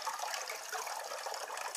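Water gushes and drips steadily as a potted pomegranate plant, soaked to drive out ants, is lifted out of its water bath; a continuous close splashing hiss with no talk.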